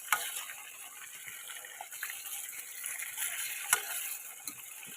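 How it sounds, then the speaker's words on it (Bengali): Pieces of chicken fry in hot oil for a special chicken chap, giving a steady soft sizzle with small pops and spatters, and now and then a light clink of a utensil. "তারপর আবার আমি চিকেনটা সবটা ভেজে নেব"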